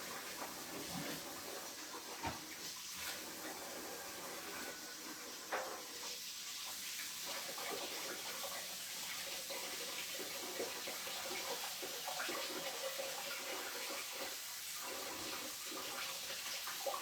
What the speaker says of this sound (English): Let me go grab some warm water.